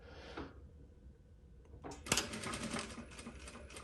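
A JUKI DDL-900C industrial sewing machine stitches a seam with a short start tack, a quiet rattle after a brief burst early on, then a sharp knock and a louder, steady run of close stitching to the end.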